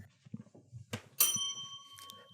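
A small hand bell strikes once with a bright ding, ringing on with a sustained metallic tone that slowly decays, following soft thumps and handling noises at close range.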